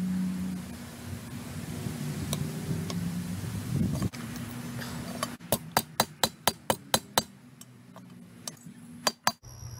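A hammer strikes a steel bar on an anvil with a piece of wood, making a quick series of sharp metallic clinks that comes after a quieter stretch of handling noise, close and loud, with no talking.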